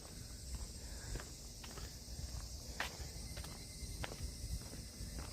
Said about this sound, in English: You can hear the incessant cicadas tonight.